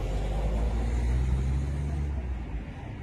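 A vehicle pulling away from a stop on a UK street, its engine a steady low rumble that swells slightly before easing off as it moves away.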